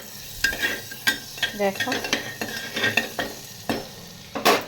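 Butter with a little oil sizzles in a cooking pan, close by, as a utensil scrapes and stirs in uneven strokes; one brief spoken word sits among the frying.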